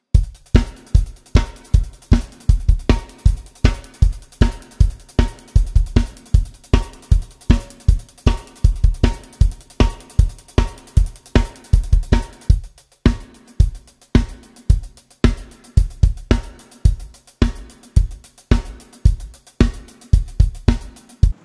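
A steady rock drum beat with crisp hi-hat, snare backbeats and kick drum hits, played alone in an even, driving rhythm throughout.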